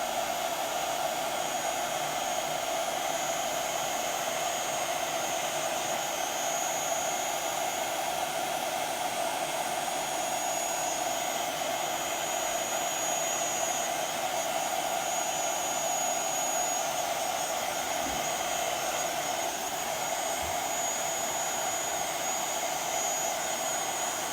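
Heat gun warming a stamped card image for embossing, a loud steady blowing roar with a constant whine, unbroken and close for the whole span, with no talking.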